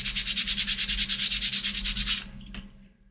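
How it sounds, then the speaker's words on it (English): Light rubbing of sandpaper over charred, laser-cut MDF, a steady series of about twenty quick, even back-and-forth scrapes lasting two seconds, close and loud, then stopping with a brief faint tap. "That was just a very light rubbing of sandpaper."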